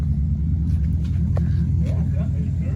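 Porsche engine with a straight pipe exhaust idling at close range, a low steady rumble that runs throughout, with people's voices briefly heard over it.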